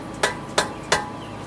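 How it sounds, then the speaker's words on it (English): Three sharp, evenly spaced blows from a rubber mallet striking a BMW front brake part, each a dull thud with a short ring, over quiet background hum. "I'm going to smack down on it with a rubber mallet hammer."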